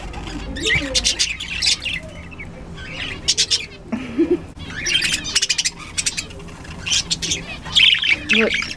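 A pet bird squawks and chirps in repeated bright bursts, close and fairly loud, while a person speaks softly to it between the calls.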